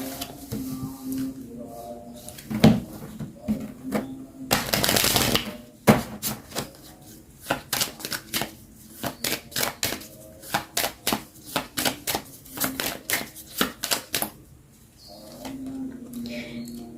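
Earth Magic oracle cards shuffled by hand in quick bursts of crisp riffling and tapping, a long run of fast flicks through the middle with brief pauses between, close and fairly loud, with soft voice fragments at the edges.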